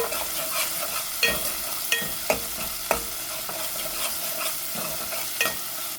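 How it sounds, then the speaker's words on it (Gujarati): Tomato, salt and asafoetida sizzling in a pan and stirred with a utensil, a close steady fry hiss broken by regular sharp scraping clicks, with no talking. "આવી રીતના કાચો સ્વાદ એનો કોઈ છે ત્યાં સુધી એને મિક્સ કરતું રહેવાનું"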